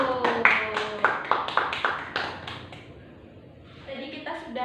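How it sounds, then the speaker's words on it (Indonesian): Students in a classroom clap their hands in a quick, uneven burst of several claps that fades out, followed by a pause before talking resumes. "kita beri tepuk tangan terlebih dahulu."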